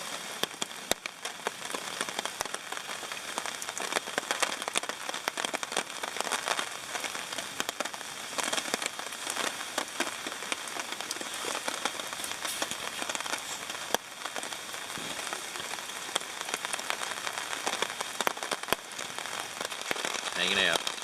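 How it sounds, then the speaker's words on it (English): Rain patters steadily on a hammock tarp at a campsite on a wet morning, a dense, even crackle of drops close overhead with occasional heavier drips. "Beautiful morning, even though it's raining."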